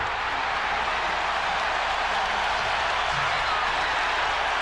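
An arena crowd at a Chicago Bulls vs Pacers Game 7 playoff basketball game roars and applauds after a fast break, a dense, continuous wall of cheering that stays loud from start to end.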